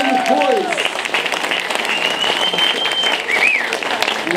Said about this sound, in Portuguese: Eu quero um aplauso muito grande para o Expressões Sonoras número 2